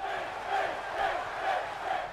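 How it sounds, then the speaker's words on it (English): A wrestling arena crowd in the WWE 2K17 video game cheers and chants in steady rhythmic swells, a dense distant roar of many voices with no commentary over it. "Crowd getting behind Finn as he's just twisting the head"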